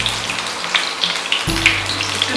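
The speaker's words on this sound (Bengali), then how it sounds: "আমার তেলটা গরম হয়ে গেছে, আমি পটলগুলোকে ভালো করে ভেজে নেব।" Pointed gourd (potol) pieces, salted, fry in hot oil for a vegetarian chhana potol dish, giving a steady crackling sizzle with small pops throughout, close and fairly loud, with no talking.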